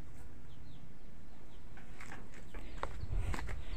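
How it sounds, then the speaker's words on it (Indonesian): Soft clucks and a few short chirpy calls from chickens at a modest distance over steady outdoor background noise, with low thumps near the end. "Ayam-ayamnya."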